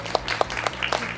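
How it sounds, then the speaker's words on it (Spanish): Brief applause from an audience at a talk on social work, with a few distinct claps standing out over a thin patter, fairly quiet and short. "Gracias por los aplausos a mi izquierda."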